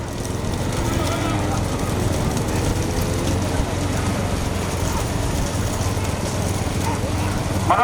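Bulls pulling carts race past during a large-bullock cart race in Semangottai, Pudukkottai, with a dense rumble of hooves and wheels alongside vehicle noise and a commentator speaking over it.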